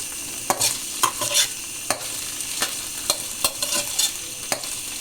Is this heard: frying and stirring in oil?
yes